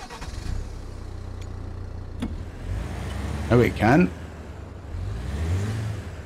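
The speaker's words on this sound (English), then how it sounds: "I need to keep my engine on," A heavy off-road truck engine in the mud-driving video game Expeditions: A MudRunner Game idles with a steady low rumble throughout, while someone speaks briefly over it.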